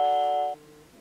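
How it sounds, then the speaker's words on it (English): A Nest Hello video doorbell's chime plays through a phone as a single bright, two-tone ringing note that sustains for about half a second and then cuts off, leaving quiet room tone. "I'm going to go ahead and just hit the doorbell button and see if it will ring my"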